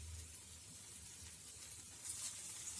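Mutton tikka pieces fry in a pan over a low flame, giving a steady, soft sizzle and hiss that grows slightly brighter toward the end, with no talking.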